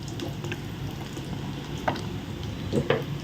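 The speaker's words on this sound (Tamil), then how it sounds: "இந்த வரக்கரை தாளிக்கிறதுக்கு தேவையான எண்ணெய் ஊற்றிக்கலாம்" Cooking oil pours and splashes into a pan for tempering a vada curry, a soft continuous trickle with a few brief crackles and spatters near the end, no talking.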